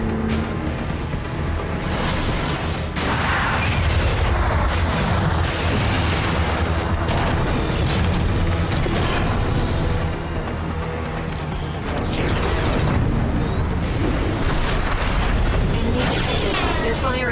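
In the Armored Core 6 video game, enemy gunfire and explosions rain down from above as a dense, loud barrage of booms, bursts and rumbling impacts that never lets up, with radio voices talking over the battle.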